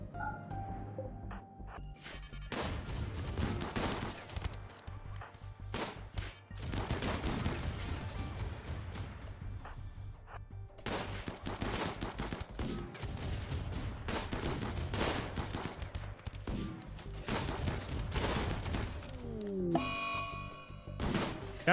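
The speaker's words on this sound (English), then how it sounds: "turn on the turrets" Automated turrets in the video game RimWorld fire in dense, repeated volleys of game gunfire, bursts crowding one another steadily through the whole stretch with little pause.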